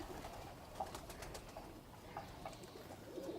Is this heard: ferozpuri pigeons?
yes